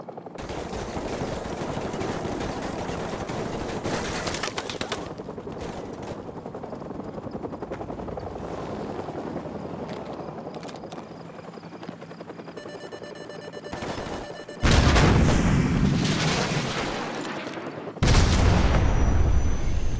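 Call of Duty Modern Warfare combat: a Stinger missile launch with rumbling helicopter rotor noise, bursts of gunfire and sharp beeping lock-on tones, then two loud, booming explosions that erupt near the end and roll on.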